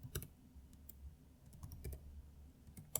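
Someone types a terminal command on a computer keyboard, producing scattered soft key clicks at an irregular pace, close and quiet, with no speech.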